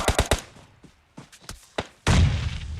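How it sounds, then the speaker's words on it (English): Several quick gunfire pops ring out during an outdoor game, followed by a thrown grenade bursting nearby with a loud, rumbling blast that carries on to the end. "And out goes the nade."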